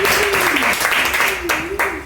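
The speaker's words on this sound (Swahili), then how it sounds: "Hebu tumpigie Bwana makofi" A church congregation claps for the Lord, a dense burst of applause mixed with loud voices and a sustained tone.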